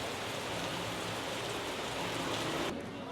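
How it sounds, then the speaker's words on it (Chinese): Heavy rain falling in Bali, a dense, even roar of downpour on surfaces that continues steadily throughout, with a slight drop in the upper hiss near the end. "巴厘岛的大雨"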